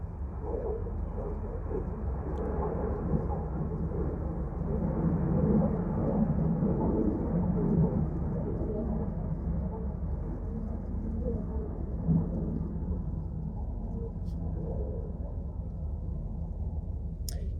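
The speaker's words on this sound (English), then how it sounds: "You're going to hear planes around here." Steady, broad roar of planes flying overhead, holding at an even level for the whole stretch and thinning slightly near the end, with no voices.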